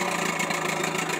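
A Montgomery Ward Sea King 12hp outboard engine, made by Gale, idles steadily and close by, with a continuous even rumble and buzz.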